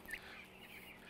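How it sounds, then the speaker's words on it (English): A normal broiler chicken clucks briefly while being handled, a short close chirping call over a steady hum of farm ventilation. "Overall, this bird you can see is chirping."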